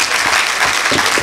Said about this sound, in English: I believe we can give the Minister of Information another round of applause